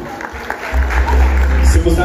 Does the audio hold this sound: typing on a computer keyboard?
no